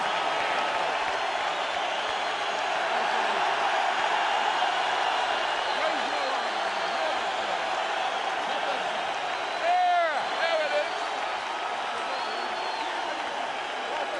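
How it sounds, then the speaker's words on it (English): A large boxing arena crowd roars and applauds for Vitaly Klitschko in a steady, sustained wash of cheering that swells briefly near the end. Commentary voices talk over it. "And listen to the crowd response for Vitaly."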